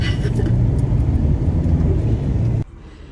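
A car drives along a road on an outback camping road trip, a loud steady engine and road rumble carrying on unbroken before it suddenly drops to a quieter hum near the end.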